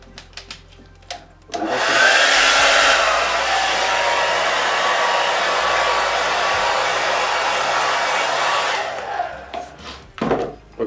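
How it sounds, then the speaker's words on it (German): A hair dryer blows air over freshly poured fluid acrylic paint, a loud steady whooshing roar that starts abruptly and runs about seven seconds before cutting off, with faint handling noises around it. "Aber ich mache mal kurz mit dem Föhn einfach,"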